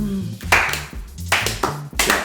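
A slow golf clap: a few sharp, deliberate hand claps spaced about half a second apart, close and distinct, with tonal background music underneath.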